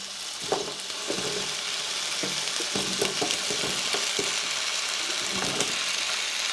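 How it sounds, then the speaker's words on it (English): Potatoes fry in hot oil in a skillet, giving a continuous soft sizzle with scattered crackles and pops throughout. "Okay, it's starting to sizzle now. I think it's going to be hot enough to cook these. And so let me go ahead and get these in the pan."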